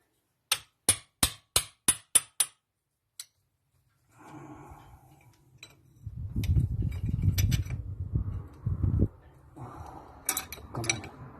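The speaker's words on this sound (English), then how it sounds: "Okay, there's the hammer." A hammer strikes near a Peugeot XD2 diesel engine cylinder head: six quick, evenly spaced metallic taps and one later tap, followed by scraping and rustling workshop handling.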